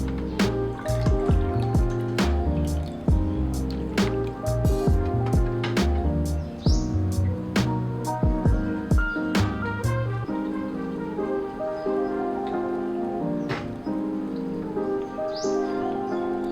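Whey drips and trickles from freshly ladled mozzarella curd draining in a sieve, with a steady patter of drops and small splashes close by, alone without talk.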